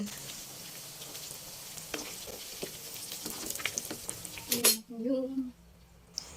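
Chicken liver and gizzard fry in rendered fat in a pan with a steady crackling sizzle and occasional clinks of a utensil, and a brief voice comes in near the end.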